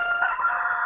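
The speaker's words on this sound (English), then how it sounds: "sorry, that's Mr. Rooster" A rooster crows nearby in a brief, loud, sustained call.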